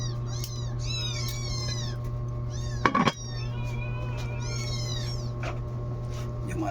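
Pet cats beg for food with repeated high, wavering meows, several overlapping in quick succession over a constant low hum, broken once by a sharp thump near the middle.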